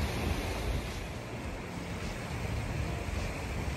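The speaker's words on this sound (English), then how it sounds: "I thought I would show you also the beach because it's much larger than Zushi Beach and it's right next to Zushi Beach" Ocean waves wash onto a beach in Kamakura, Japan, giving a steady broad rush of surf with some wind noise. No voices are heard.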